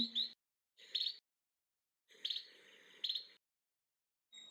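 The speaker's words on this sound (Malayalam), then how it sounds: "അതാ അമ്മ കിളിയും അച്ഛൻ കിളിയും കൂടെ പുറത്തിരുന്ന് വിളിക്കുകയാണെന്ന് തോന്നുന്നു" Parent birds call to a fledgling with short, bright chirping bursts separated by pauses, near and faint, with no talking.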